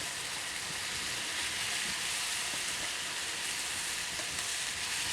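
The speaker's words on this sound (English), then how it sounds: "You can hear the sizzle." Steady, crackling sizzle of chicken frying in a hot skillet, close and continuous with no talking.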